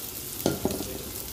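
Onions frying in leftover fish-frying oil with a little extra oil added, a soft steady sizzle close by, broken by two brief stirring scrapes.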